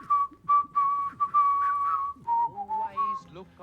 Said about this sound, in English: Can you, for the finish, whistle "Always Look on the Bright Side of the Life"?